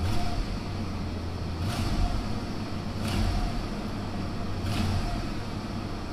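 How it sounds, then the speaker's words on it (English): A V8 engine, just repaired after a blown-out spark plug, runs steadily at moderate distance, with a few brief surges as gas is given, and nobody speaks. "See how she sounds if I give a little gas."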